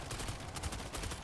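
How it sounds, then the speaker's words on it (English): A mounted stationary machine gun firing in the zombie shooter World War Z, as a fast, even, continuous rattle of shots that stays loud and close through a short burst. "This stationary MG is fucking dope."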